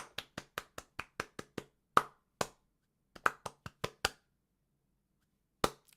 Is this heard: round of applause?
yes